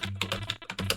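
Rapid keystrokes on a computer keyboard, a close, steady burst of clicks in quick rhythm, entering text in a short run with no voices.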